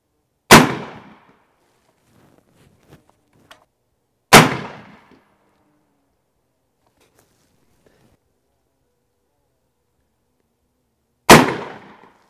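Three sharp, loud cracks from an AirForce Texan big-bore air rifle firing heavy lead slugs, spaced several seconds apart with near silence and faint handling clicks between them.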